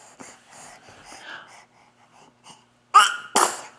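A baby sneezes twice in quick succession, two sharp, close bursts after a stretch of soft breathy snuffling and small vocal noises.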